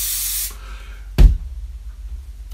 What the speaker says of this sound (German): Dieses Fixationsspray macht es nicht und das zeige ich gleich mal